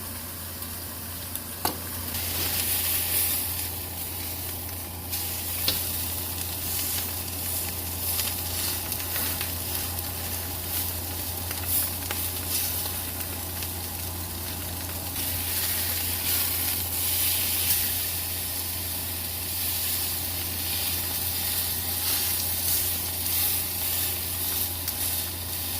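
A ribeye steak sears in a hot cast iron skillet with a steady, loud sizzle and crackle that runs unbroken throughout, with no voices over it.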